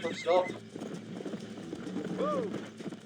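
A horse galloping in the Red Dead Redemption video game gives rapid close clip-clop hoofbeats, broken by two loud whinnies.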